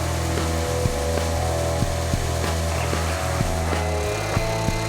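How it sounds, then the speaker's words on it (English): An edge sander sands a wooden template right up to the marked line, giving a steady loud motor drone with a constant belt hum and faint periodic knocks as the wood is worked against it. "Over at the edge sander, I sand right up to the line."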